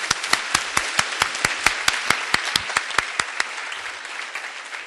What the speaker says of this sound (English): I think definitely deserves a round of applause as recognition